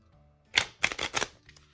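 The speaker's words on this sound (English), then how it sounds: "Now we'll do some regular shuffles" A few quick riffling bursts of a fairly new, stiff Theory Eleven Artisans playing card deck being shuffled, close and fairly quiet, with short pauses between them and a faint tap at the end.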